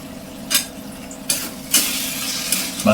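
Masala gravy fries in a pan on high heat as the remaining water cooks off. A continuous sizzle sits beneath a few distinct bursts of spatula scraping and clinks against the pan, close by.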